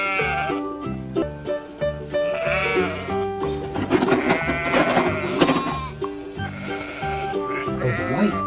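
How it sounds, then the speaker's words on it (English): Sheep bleating repeatedly in a loud, close series of wavering cries with short gaps, one call overlapping another, heard alone. "Sheep. A woolly sheep."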